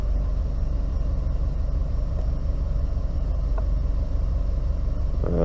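A Subaru EJ257 SOHC flat-four idles steadily at about 700 RPM, a continuous low rumble holding an even, unbroken level throughout with a brief faint tick near the end.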